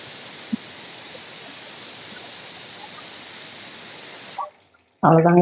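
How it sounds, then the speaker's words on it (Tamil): Pressure cooker on the stove while chicken biryani cooks: a loud, steady hiss of venting steam runs for over four seconds, then cuts off sharply, and a person starts talking right after. "ரெண்டாவது ஒரு விசில் வரட்டும்"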